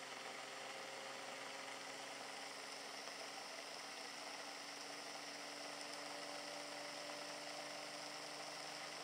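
Small synchronous motor driven by hall sensors and MOSFETs, running steadily after starting by itself, a faint constant electric whine and hum with stable tones and no talk.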